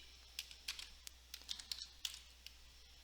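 Close, light keystrokes on a computer keyboard while a command is entered: an uneven run of about a dozen soft clicks and taps over a quiet room background.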